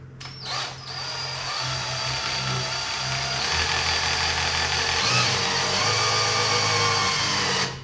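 A drill spins the oil pump of a 1955 Chevy engine, giving a steady, loud whir that runs almost unbroken for several seconds after a brief start-up, with faint rattling underneath.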